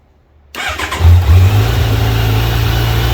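A stock 2020 Kawasaki Z900 ABS motorcycle engine cranks and fires up at about half a second, then settles into a steady, loud idle rumble close by.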